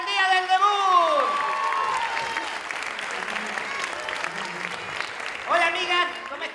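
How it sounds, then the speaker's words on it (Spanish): Audience applause and cheering at a comedy show on a debut night, a loud crowd clapping and whooping throughout, with an amplified voice calling out at the start and again near the end. "¡Fuerte el aplauso para las chicas en el día del debut!"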